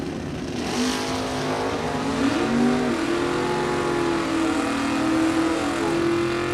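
A Chevrolet Camaro drag car roars down a bracket racing strip, a sustained loud engine note rising steadily in pitch as it accelerates, heard from trackside with no talk over it.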